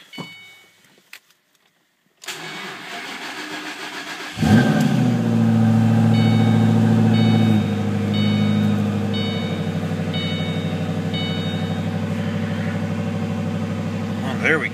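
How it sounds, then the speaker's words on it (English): A 2008 Shelby GT500 with about 22,000 miles is cold-started at 9 degrees after sitting three weeks. Starter cranking comes first, then the V8 catches with a loud flare and settles into a steady, rumbling idle with faint whine above it. "this is going to count as an extremely cold start."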